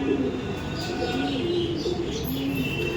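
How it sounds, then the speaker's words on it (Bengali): Pigeons coo in a loft, a steady run of low, throaty coos that overlap one another at close range, with no talk over them. "এটা হচ্ছে মাদি পায়রা"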